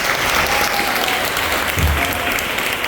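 A studio audience applauds at a dance competition after Rosalie Michaud and François-Michel Larocque perform, with dense, loud, sustained clapping throughout and a faint voice beneath it.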